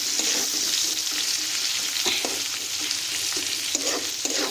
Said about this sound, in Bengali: এবার পেঁয়াজটাকেও আমরা খুব ভালোভাবে লাল লাল করে ভাজা করে নিচ্ছি।